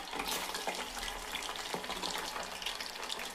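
Hair oil heating in a pan with fenugreek, chopped aloe vera, gooseberry, hibiscus, onion, rosemary and curry leaves, giving a steady dense bubbling and crackling sizzle throughout, close and continuous with no voices.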